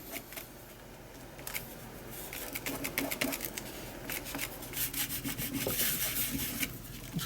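A cotton bud rubs distress crayon into a collage journal page with a steady dry scrubbing and scratching, close and fairly loud, in repeated strokes.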